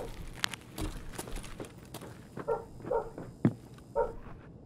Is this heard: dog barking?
yes